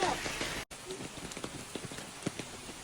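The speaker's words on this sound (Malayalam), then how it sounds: "മഴ എന്ന് പറഞ്ഞാൽ മഴയോ മഴ." Rain falls on a rainy day at home, a soft steady patter with scattered drops tapping on surfaces, fairly faint and continuous.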